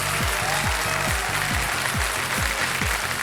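Studio audience applause on a Hindi quiz show, a steady, dense wash of clapping throughout, with rhythmic low thumps underneath and no talk.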